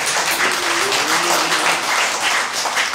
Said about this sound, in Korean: 우리 다시 한번 두 번째 박수입니다